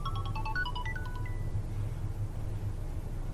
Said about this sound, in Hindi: ये किसका फोन आ गया इस वक्त?